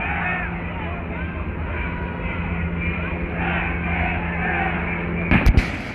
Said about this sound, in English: There has been some loud explosion on the ground.